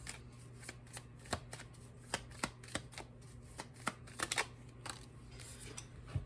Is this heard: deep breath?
no